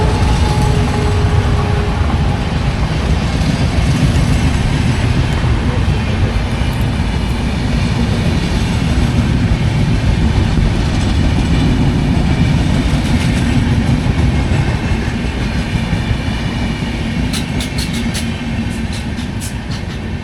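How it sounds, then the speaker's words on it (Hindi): Express train passing near Chhanera station, a loud sustained rumble of rolling wheels and wagons roaring by close for the whole stretch, with faint clicks and squeaks toward the end. "ये देखो सामने गाड़ी जा रही है, पूना से कोई गाड़ी आई है सोमोल एक्सप्रेस करके"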